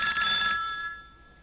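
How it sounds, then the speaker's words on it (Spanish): A telephone bell rings in a Spanish radio drama, a single bright burst that fades away quickly, heard alone and fairly quiet. "sonó el teléfono"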